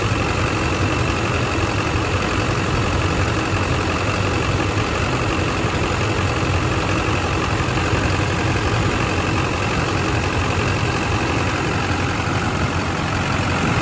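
A diesel truck engine idling steadily, a loud continuous rumble with a mechanical clatter that holds unchanged from start to finish, no voices.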